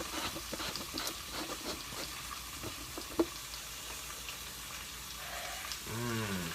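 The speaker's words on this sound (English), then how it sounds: "Hashtag bacon sizzle." Bacon sizzles in a pan while being cooked for a bacon BBQ mac and cheese burger, a steady faint crackle with a brief sharp pop midway and a short stir of liquid near the end.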